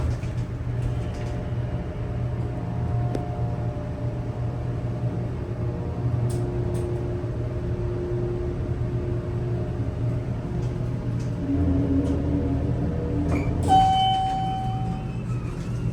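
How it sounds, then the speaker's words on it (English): Vintage Otis hydraulic elevator, low on oil, runs with a steady low rumble and faint whine, ending in a brief squeal and clunk near the end. "That definitely sounds like it's low on oil."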